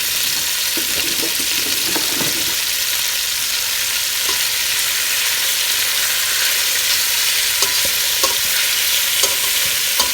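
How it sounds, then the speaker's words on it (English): Beef for carne guisada sizzles steadily as it browns in a hot pot, a continuous loud frying hiss with a few light scrapes and clicks of stirring. "we're going to let these cook until they're all nicely browned"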